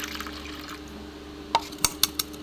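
Mung dal lentils washed in water for a vegetarian pointed gourd dal, with soft liquid swishing under a steady hum, then four short drips and splashes near the end.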